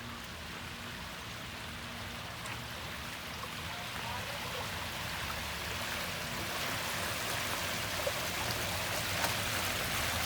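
Water from a small garden waterfall at Woodland Park Zoo rushes and splashes continuously in the background, a soft, steady wash that grows slightly louder, with no voices heard.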